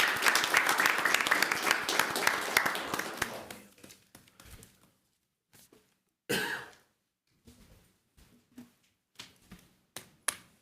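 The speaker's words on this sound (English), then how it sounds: "if you join me in a round of applause" A room of attendees at a Macomb city council meeting claps for a few seconds, then the applause tapers off into scattered taps, coughs and small shuffling noises in a quiet hall.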